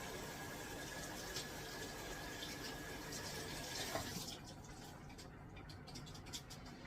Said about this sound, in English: So I'm going to give these a nice little rinsing.